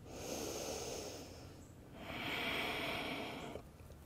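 Slow, deep breaths during a core-focused yoga exercise, a long airy inhale then a long exhale, soft and close, with no talking.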